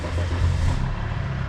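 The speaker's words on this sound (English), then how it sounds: "You can hear the exhaust blowing" A Volvo car with a blowing exhaust gives a steady, close, rough low rumble that surges slightly and then settles, with no voices over it.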